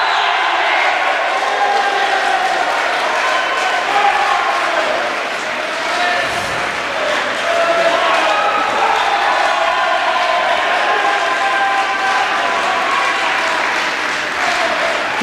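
Loud, sustained applause from a large crowd at a British election results declaration, steady clapping with some cheering throughout, dipping slightly midway before swelling again.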